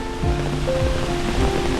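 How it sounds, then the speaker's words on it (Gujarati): A steady, continuous roar of rushing water from Girmal waterfall in Dang, Gujarat, broad and unbroken, with a faint low hum underneath. "અહીંયા ઊભા રહીને પણ ધોધ જોઈ શકાય છે"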